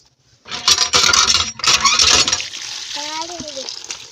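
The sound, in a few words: washing cauliflower with water in a bucket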